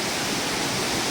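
White Beard Waterfall and the creek below it in Biei, Hokkaido, Japan, swollen after heavy rain, give a dense, steady rushing roar of falling water, loud and continuous with no talk.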